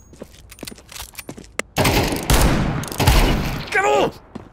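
Automatic gunfire in a tactical shooting video game, loud bursts of rapid shots fired up close, with short pauses between bursts and a voice talking over the shooting.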